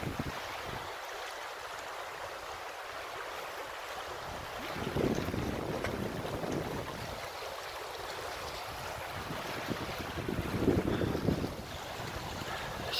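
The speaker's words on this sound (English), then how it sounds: "All you can hear is the running water." River water runs past a small sailboat drifting downstream. A steady rushing wash swells twice, mixed with gusty wind buffeting the microphone, and no voices are heard.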